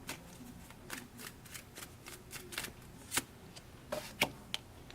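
A deck of tarot cards is shuffled and drawn, with soft, quiet riffles and crisp slaps of cards close by, ending in a few sharper snaps.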